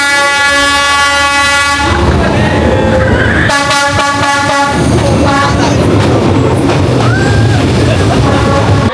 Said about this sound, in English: The thing is just the train just comes when it wants to come.